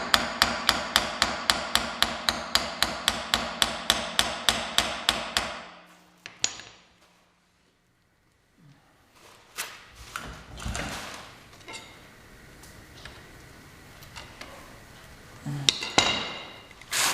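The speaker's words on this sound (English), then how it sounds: "there's a spot right here to tap it, get it free" A hammer taps a Dana 60 axle stub being worked free during an axle rebuild, about twenty sharp, evenly spaced metallic strikes in quick succession, then quieter clinks and handling noises of metal parts.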